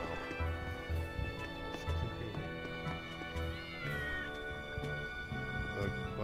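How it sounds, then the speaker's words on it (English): Several cats meowing and caterwauling in the video game Tales of Berseria, repeated plaintive cries over soft game music, with no talking. "A bunch of cats."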